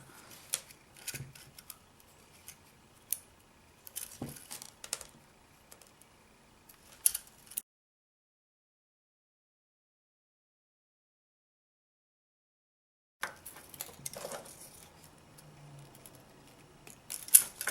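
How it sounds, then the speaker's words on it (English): Snips and small metallic clicks come in scattered bursts as strands of wire are cut for a beaded scorpion, then a stretch of silence and more cutting and handling noises. "you're going to cut out 5 strands of wire, roughly 7 or 8 inches long"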